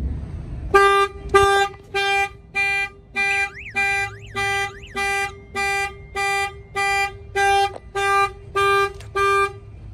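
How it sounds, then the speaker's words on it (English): A work van's security alarm fires off after a window is pounded: a couple of thuds, then a loud, steady run of repeating electronic chirps with a brief warbling siren passage partway through. "Go ahead and pound on the window, it's gonna fire off."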